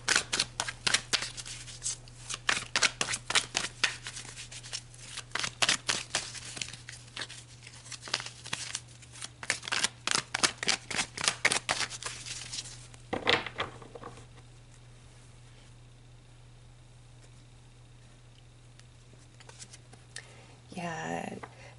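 Tarot cards are shuffled in quick riffling bursts for over ten seconds, then the sound drops to quiet handling with a short rustle at the end.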